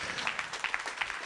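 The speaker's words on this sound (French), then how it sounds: "Applaudissons le Seigneur Jésus, le roi des rois." A church congregation claps together in a brief, dense burst of rhythmic applause.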